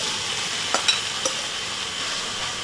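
Mushrooms, beans and tofu stir-frying in a hot wok-style pan over a grill, a steady broad sizzle with a few sharp scrapes and clicks of the spatula against the metal.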